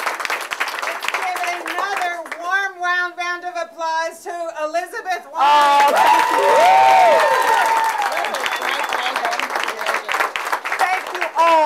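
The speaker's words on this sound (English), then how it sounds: "Let's give another warm round of applause to Elizabeth Warren" Audience applause for Elizabeth Warren at a rally in Framingham: after a voice speaks over a loudspeaker, a warm wave of clapping and cheering from the crowd swells and holds, with a voice rising above the noise.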